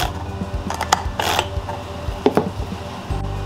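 A Makita chainsaw's newly installed chain is run around the bar with the engine off, giving irregular mechanical clicking and ratcheting with a steady low hum underneath.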